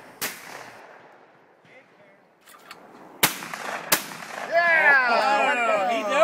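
Shotgun blasts at a charity sporting clays shoot: a few sharp, loud reports ring out over a noisy outdoor scene, followed by a whistling, warbling tone as people murmur nearby.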